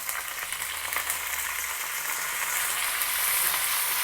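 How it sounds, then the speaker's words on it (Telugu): A steady, loud sizzle of curry leaves frying in hot oil for a tempering with cumin, asafoetida and dried red chillies, a Telangana-style seasoning, hissing continuously with no voices. "కొంచెం కరివేపాకు వేసి వేయించుకోవాలి."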